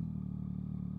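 A motorcycle rides slowly up a rough country driveway, its engine a steady low drone with a small clatter near the end.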